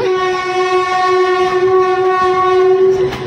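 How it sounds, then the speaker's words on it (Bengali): A loud, sustained train horn blares over the rumble of a passing freight train, steady and close. "এটা তো মালগাড়ি যাচ্ছে"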